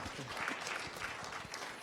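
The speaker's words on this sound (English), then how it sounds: "Let's clap for them." A panel audience at a youth urban peace forum gives a short, quiet patter of applause, soft and somewhat distant, lasting under two seconds.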